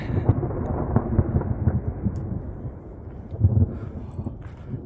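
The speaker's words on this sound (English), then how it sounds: "there's some lightning, intense thunder" A deep, rolling rumble of thunder sounds loud and sustained, swelling and fading without a break.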